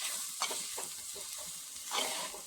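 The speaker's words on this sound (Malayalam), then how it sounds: "ഇടയ്ക്ക് ഇതൊന്ന് തുറന്ന് ഇളക്കി കൊടുക്കാം" A spoon stirs sweet potato leaf stir-fry with turmeric, chili, garlic and onion in a pan, with a soft continuous sizzle and a few scraping strokes, close up and moderately quiet.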